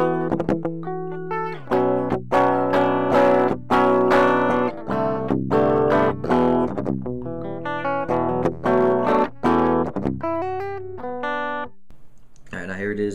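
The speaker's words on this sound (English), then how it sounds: "this is without the modification, just 9 volts going in. It's flat signal, no effects." Electric guitar run through a 9-volt pedal with no modification and a flat, effect-free signal, playing loud, dense chords and riffs continuously with a slight crunchy edge, fading to a few sparse notes at the end.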